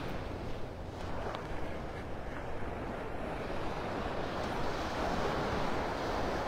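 Surf rolls steadily onto the beach at Pelican Bay in Naples, Florida, a continuous broadband wash mixed with wind buffeting the microphone, with no clear individual wave breaks.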